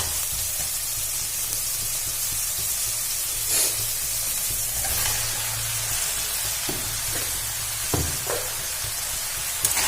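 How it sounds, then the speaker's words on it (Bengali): Potatoes, pointed gourd and soybean chunks fry together in a hot pan, giving a constant loud sizzle and hiss. A few soft clinks of stirring break through now and then, and nobody speaks. "এবার এর মধ্যে আমি দিয়ে দেবো আলু আর পটল আর সয়াবিন ভাজাটা"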